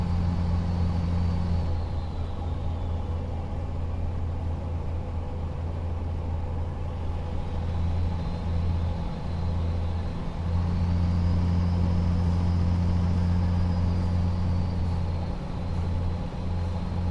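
A truck engine held at high RPM in American Truck Simulator while cruising through California and Nevada, a loud, sustained droning hum with steady tonal whine that shifts pitch slightly as revs rise and fall, continuous throughout.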